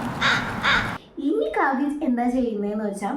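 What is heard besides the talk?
crow cawing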